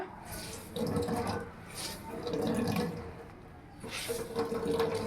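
Water splashes and drips in three short bursts as wet, chopped bottle gourd leaves are squeezed out by hand, each squeeze giving a close, trickling gush into a bowl or sink.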